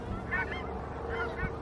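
Canada geese honk in a steady chorus of nasal calls, with two clearer bursts standing out against a dense, continuous flock din at a wetland birding spot.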